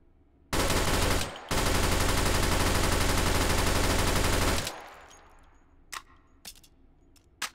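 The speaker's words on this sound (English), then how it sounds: "I love the sound of this gun" Sustained automatic gunfire from a weapon in the VR shooter Hot Dogs, Horseshoes & Hand Grenades: a loud, dense burst with a brief break, then a longer continuous volley, followed by a few scattered clinks of spent casings or gear.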